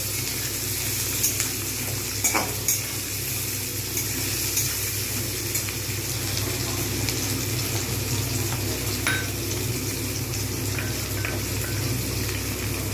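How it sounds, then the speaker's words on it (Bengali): Onions fry in a pan over medium-high heat with a continuous, close sizzle, broken now and then by a light clink of stirring. "পরিমাণ মতো পেঁয়াজ এটা আমি লাল করে ভাজবো"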